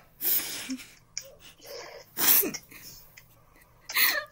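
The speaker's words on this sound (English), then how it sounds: "Oh, I feel like I'm gonna sneeze." Three sharp, loud sneezes burst out, spaced roughly a second or two apart, with quiet breathy pauses between them.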